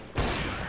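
A single gunshot fired through a wall in Counter-Strike, a sudden loud blast that rings on as a sustained noisy tail, standing alone without talk.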